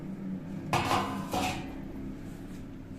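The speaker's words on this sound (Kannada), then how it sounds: "ಕಡಲೆ ಬೀಜ, ಶೇಂಗಾ ಬೀಜ ಮಿಕ್ಸ್ ಮಾಡ್ತಾಯಿದ್ದೀನಿ" Peanuts and salt are stirred in a pan for chutney powder, producing two short rattling, scraping clatters of metal and nuts against a quiet background hum.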